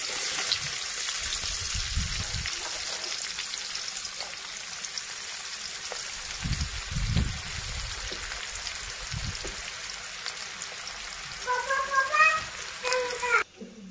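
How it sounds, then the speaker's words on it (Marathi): Finely chopped onion frying in butter and oil for pav bhaji gives a soft, steady sizzle with a few low bumps of the pan. A voice speaks briefly near the end. "आपला कांदा पण छान असा तळलेला आहे।"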